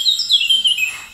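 A cartoon bird chirps in a quick run of high, bright tweets that come one after another, clear and close, with no voices over them.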